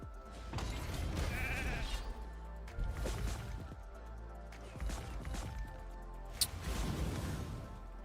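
Repeated sheep bleats come from a hero turned into a sheep in a mobile arena game, several wavering calls in bursts with short gaps, moderately loud, alongside faint game effects.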